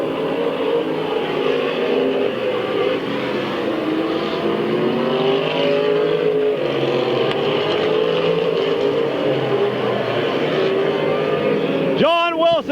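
Stock cars race around the Midvale Speedway oval, their engines a loud, continuous roaring drone throughout. A commentator's voice runs over the engine noise.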